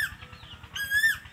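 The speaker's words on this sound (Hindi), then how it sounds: "ये आप कोयल की आवाज़ सुन रहे हैं" An Asian koel calling from a tree in a garden with fruit trees, one clear rising whistled call of moderate distance over soft background chirps and a faint repeated low pulsing.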